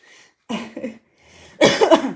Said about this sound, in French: Vous allez sans doute m'entendre un petit peu tousser, renifler, peut-être même éternuer